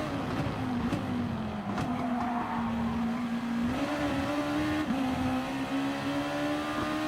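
A Gr.2 race car engine in GT Sport drones steadily at high revs while running in a slipstream at Red Bull Ring, with slight pitch dips through gear changes and faint tire noise.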